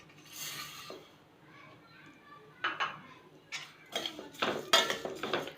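Semiya vermicelli being roasted in ghee in a pan, with scraping and clinking of a utensil against the pan in bursts that grow busier and louder toward the end, close by.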